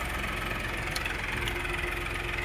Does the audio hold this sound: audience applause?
no